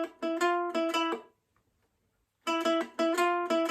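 A ukulele strums a wrestling theme in two short bursts of bright, repeated chords separated by about a second of silence.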